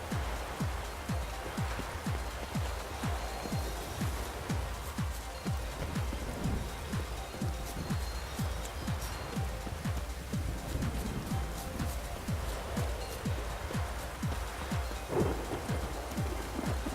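Steady rain pours in The Witcher 3: Wild Hunt with a low, continuous rumble of thunder beneath it, forming a dense, unbroken storm ambience with no voices.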